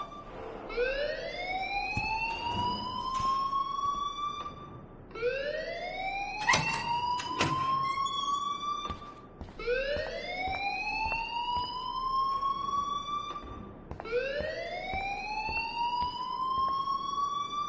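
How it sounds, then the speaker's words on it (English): A school alarm blares in the video game Life is Strange: four rising, wailing siren sweeps repeat in a steady cycle, loud and continuous, with a few clanking thuds mixed in. "please turn off that alarm since that's your job"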